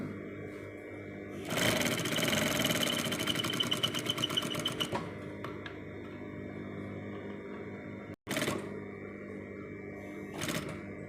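Sewing machine stitching the front placket of a polo shirt: a loud, fast, even run of stitching for a few seconds, then stopping, followed later by two short bursts.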